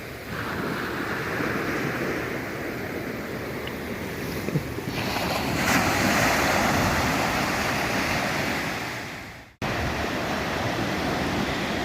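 Ocean surf rolls steadily onto a cold Florida beach near Jacksonville, with broad, continuous wash and wind noise that swells and fades, and a brief dropout near the end.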